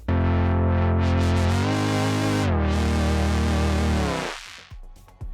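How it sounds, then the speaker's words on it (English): The Fatty Chord Bass preset on a ROLI Equator2 synthesizer plays one thick, sustained bass chord that shifts pitch in steps, then cuts off into a short decaying tail. "next up we have a preset called Fatty Chord Bass"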